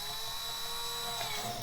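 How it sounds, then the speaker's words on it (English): Power drill spinning an engine valve to lap it against its seat, a steady high-pitched whirring grind that holds constant throughout. "we're going to be doing is spinning the valve with the drill like this, and it's just going to grind it down"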